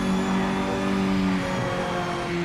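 Engine drone and a steady tonal brake whine from a race car in Project Motor Racing, loud and continuous, with the pitch shifting midway as the car slows.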